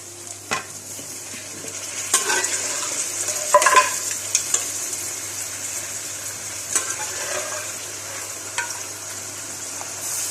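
Boiled mutton tipped into a pot of melted tomatoes, sizzling steadily close up with scattered stirring scrapes and utensil knocks, no talking.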